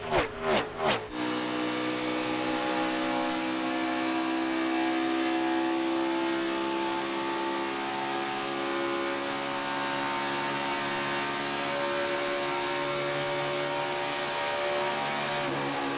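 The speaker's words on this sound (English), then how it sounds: "You can hear that RPM picking up as you use the draft all the way down this very, very long front straightaway." A NASCAR stock car at Pocono Raceway drafting down the long front straightaway, its engine a loud, sustained droning whine that holds and climbs steadily in pitch, preceded by a few brief thumps at the start.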